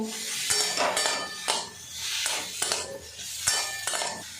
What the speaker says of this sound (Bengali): আবারও মিশিয়ে নাড়াচাড়া করে নেব।